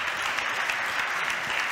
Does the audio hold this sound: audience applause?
yes